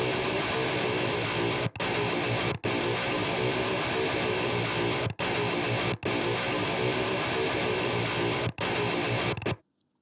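Heavily distorted electric guitars panned hard left and right, run through a distortion plugin into an amp rack, playing loud dense chugging parts broken by several brief stops before cutting off at the end.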